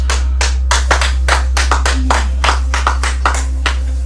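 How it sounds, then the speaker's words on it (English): Scattered applause from a small audience at a women's wrestling match, a dozen or so uneven claps spread over a few seconds over a steady low hum, close and fairly loud with no speech. "And your applause please for Ushi, who's injured herself."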